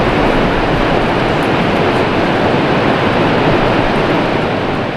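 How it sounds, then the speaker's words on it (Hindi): Broad, unbroken roar of rushing water from the Seven Sisters Falls in Cherrapunji, seven streams joining into one waterfall, loud and steady throughout with no voices. "इनमें से एक है ये सेवन सिस्टर्स फॉल। 7 धाराएं मिलकर बनाती हैं इस झरने को।"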